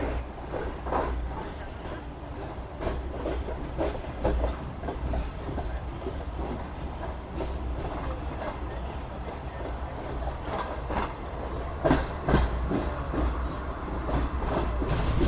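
The Pak Business Express train passing through a station platform between Karachi and Lahore, with a steady low rumble and rhythmic wheel clatter heard from inside, fairly quiet throughout.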